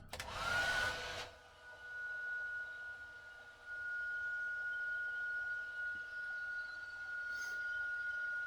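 A hair dryer blows on a vacuum hose to warm it for a tight fit, a steady close whine with a high tonal edge running throughout after a brief louder burst at the start.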